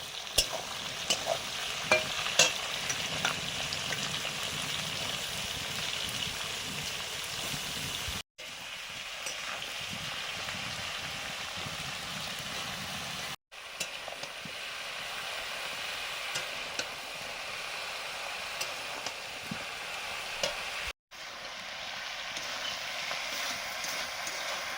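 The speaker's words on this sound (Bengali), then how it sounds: "এবারে দিচ্ছি সরু সরু কেটে রাখা বেগুন" Thinly sliced eggplant frying and being stirred in a pan, a steady close sizzle with frequent scraping stir strokes throughout, broken by a few brief cuts.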